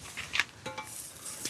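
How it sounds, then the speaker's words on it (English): A utensil stirs chicken and shrimp fried rice in a wok over an open fire, giving a few quick metallic scrapes and clinks, close and moderately loud. "let's go pop back over here and give it a stirry stir"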